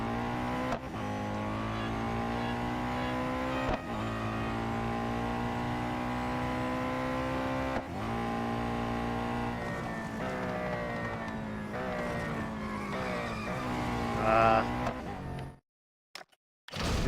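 Koenigsegg race car engine in Real Racing 3 screams at high revs, climbing through gears with abrupt drops at each shift, loud and sustained before a brief cut to silence near the end.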